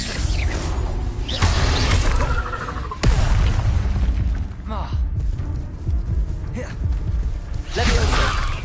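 Incendio fire spell cast in a Hogwarts video game: loud fiery whooshes and booming bursts that repeat over several seconds, mixed with other spell effects and a voice speaking over them.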